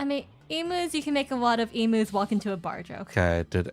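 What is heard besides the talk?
No everyday noises stand out.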